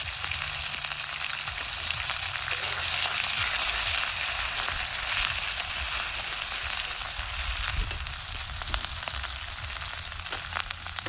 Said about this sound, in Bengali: এখন মশলাটা একটু কষিয়ে নেব